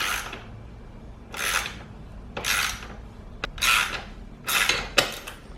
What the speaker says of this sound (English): using a 19mm wrench on the nut, you can start pressing out the Heim joint